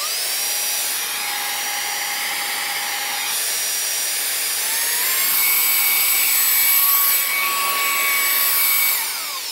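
A small motor in a PeroBuno 2-in-1 cleaning air blower whirring at high speed, a steady whining hum that rises in pitch partway through, heard alone up close.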